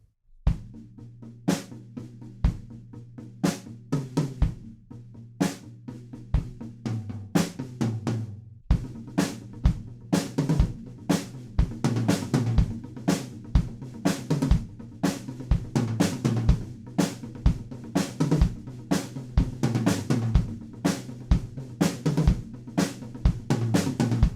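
A steady drum kit groove with backbeat snare and punchy tom hits accenting the pattern, played continuously and fairly loud with no voices.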